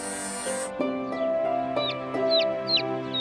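Small cartoon bird chirps, several short bright cheeps in a row, sound over a sustained musical background of cartoon-style tones.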